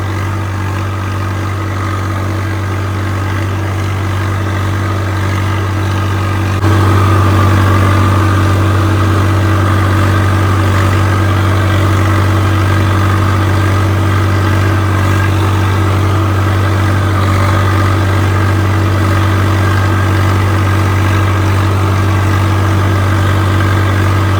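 A Swaraj 855 tractor engine runs steadily during field ploughing, a loud close low diesel drone with a constant hum that steps up slightly partway through and continues unbroken.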